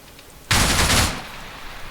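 A burst of sustained automatic gunfire in ARMA 3 with GL5FX sound effects: a loud, dense half-second-long volley of rapid shots that cuts off abruptly, leaving a lingering reverberant tail.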